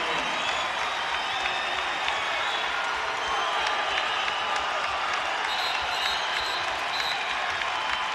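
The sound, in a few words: basketball arena crowd cheering after a turnover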